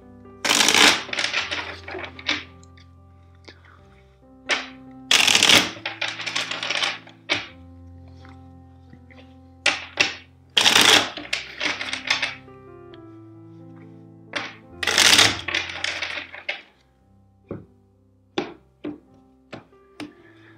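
Loud bursts of tarot card shuffling, repeated riffles and bridges with sharp taps as the deck is squared between them, close and clear with no talking.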